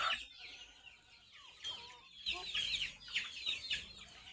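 A hen clucking after laying an egg on a goat and poultry farm, with a run of nearby cackling calls that grow busier and louder toward the end, heard alone.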